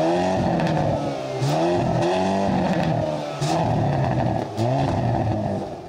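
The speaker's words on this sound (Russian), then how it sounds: "вот самый громкий уровень выхлопа Kona N." A Hyundai Kona N crossover with its exhaust at the loudest setting revs repeatedly, engine note climbing and dropping in several sharp bursts with crackles between, close and loud with no talking.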